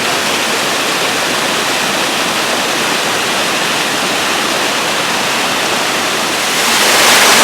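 Water from Lake Padden rushes down an outlet chute in a steady, loud, close roar that fills the whole stretch and swells slightly at the end, with no voices.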